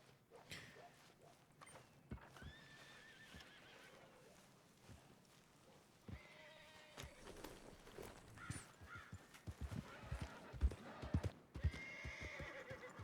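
Horse hooves clip-clopping along with loud whinnies and neighs inside a roleplay video game, the clopping steady at first and growing busier and louder toward the end.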